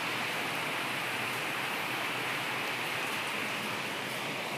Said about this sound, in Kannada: ಭರ್ಜರಿ ಮಳೆ ಬರ್ತದೆ.